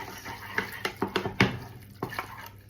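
A wooden spoon works through a thick orange marmalade and chocolate mixture in a bowl, giving a handful of irregular, close knocks and scrapes with soft wet sounds between them.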